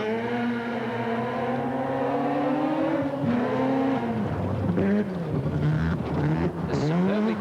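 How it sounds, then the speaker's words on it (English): A Mazda RX-7 mid-engine four-wheel-drive rally car runs downhill at a 1988 forest rallysprint. Its engine howls loud and close, pitch climbing and dropping with repeated gear changes and throttle lifts, and a voice may be faintly present beneath it. "The superbly built, beautifully balanced RX-7 mid-engine face frame four-wheel drive."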